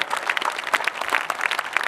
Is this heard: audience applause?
yes